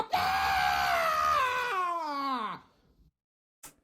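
A cat lets out a long, loud, wavering yowl at night that bends downward and trails off into silence, followed by a faint brief noise.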